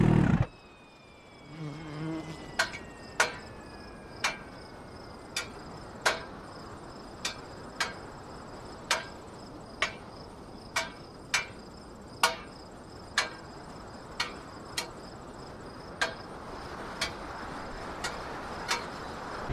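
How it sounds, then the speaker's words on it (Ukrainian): Exhaust manifold of a car in the BeamNG driving game ticks as it cools after the engine stops, with sharp metallic pings about once a second over a quiet background. "Перша версія – це нові звуки охолодження колектора"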